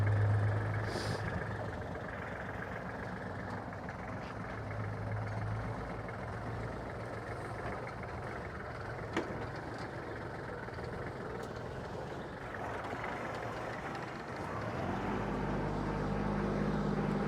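The small diesel engine of a Kubota GL32 compact tractor with cab runs steadily nearby at a constant idle for the whole stretch, its low rumble swelling slightly toward the end.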